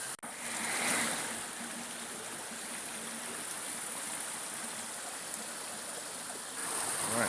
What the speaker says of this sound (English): I have the river running through a little valley